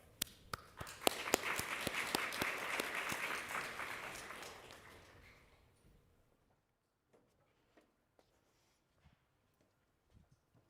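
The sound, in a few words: audience applause welcoming speakers to the stage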